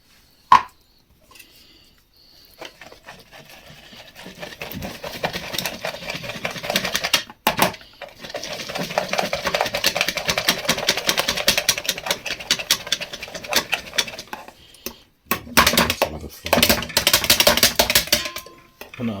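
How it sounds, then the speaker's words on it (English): Sugar and water being stirred thoroughly in a bowl until smooth for eggless lemon curd: a steady run of rapid scraping and clattering from a utensil against the bowl, pausing briefly a few times, close and fairly loud. "You've got to mix it really thoroughly till it's all smooth."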